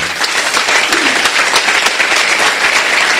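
A church congregation breaks into loud, sustained applause acclaiming the Lord, a dense wash of many hands clapping together close by with no talk over it.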